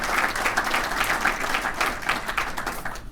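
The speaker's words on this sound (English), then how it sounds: "all of you deserve a round of applause" An audience at a chamber of commerce State of the State event in Torrance applauds with dense, steady clapping for a short stretch before it fades at the end.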